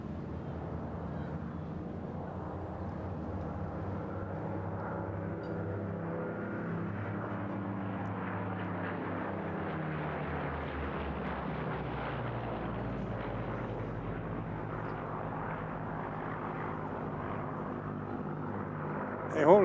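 At an airshow, a WWII Spitfire fighter gives a continuous broad roar that swells and slowly changes pitch as it passes, distant but steady, with a faint voice underneath.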